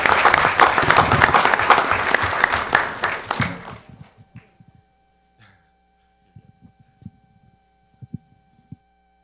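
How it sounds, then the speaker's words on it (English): An audience at a city zoning appeals board meeting claps loudly for about four seconds, then the applause fades out into a quiet room with a low hum and scattered small knocks. "Let's give them a round of applause."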